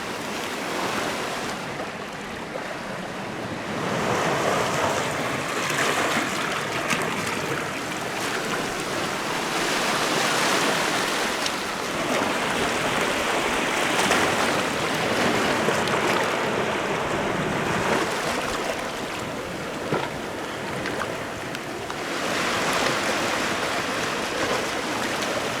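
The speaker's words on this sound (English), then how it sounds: "Maybe it was just a freak big wave or three." Sea waves wash onto the shore at Nash Point beach in South Wales, with a continuous rushing surf that swells and recedes in broad surges, mixed with some wind noise.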